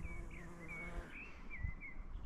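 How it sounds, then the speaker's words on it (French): A bee or bumblebee buzzes faintly in short, wavering bursts around a flowering shrub with red leaves, outdoors in spring. It is heard alone, with no talk. "s'il y a un bourdon déjà. Enfin un bourdon, une abeille"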